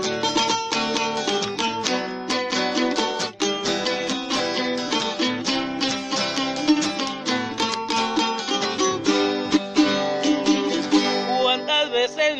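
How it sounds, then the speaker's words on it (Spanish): Jarana and guitar strummed together in a Mexican son jarocho style, bright rhythmic chords with steady repeated strokes filling the whole passage, loud and close with no voices. "Y eso suena más o menos así con la jarana y la guitarra"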